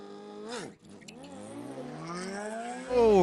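A pair of Kawasaki ZX14 drag racing motorcycles wail at a drag racing finals event, engine pitch dipping then climbing steadily through the revs. A loud roaring surge rises at the end.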